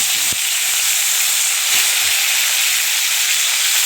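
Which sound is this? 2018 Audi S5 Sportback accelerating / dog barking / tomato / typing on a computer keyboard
tomato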